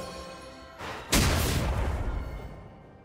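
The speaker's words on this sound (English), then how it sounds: "Red team's turret has been destroyed." A turret being destroyed in League of Legends: a low rumble rising into a heavy booming crash that swells and then slowly fades, with no voices.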